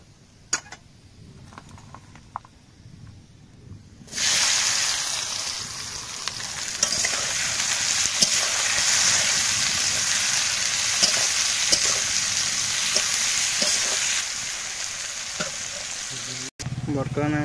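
Onion and masala fry in a pan with loud, steady sizzling that starts abruptly after a few quiet clinks, while a spoon scrapes and stirs through it before the sizzle drops away at the end.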